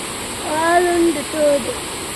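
A rural stream in Kerala gives a steady, broad wash of flowing water throughout, with a voice speaking over it.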